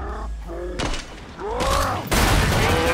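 Gunfire in the video game Killing Floor 2 comes as repeated loud bursts of rifle shots with booming impacts, while someone shouts and talks over the shooting.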